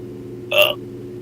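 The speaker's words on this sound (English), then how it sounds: "It was noisy enough to be picked up by my mic, but it wasn't a good enough burp for my standards." A single short, loud burp picked up close on a microphone, breaking briefly over a quiet background hum.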